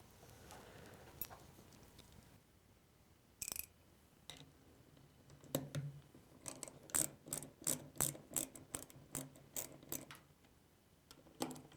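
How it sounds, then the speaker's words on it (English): An 8mm socket ratchet loosening bolts on a 4L60E transmission casting: quiet, close, rapid clicking bursts of the pawl, with a sharp metallic clank early on, and no talking. "Use an 8mm socket and remove these two bolts."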